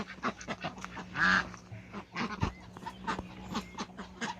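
Ducks and drakes in a poultry yard give scattered quacks and bird calls over a low steady hum, with one louder call near the middle.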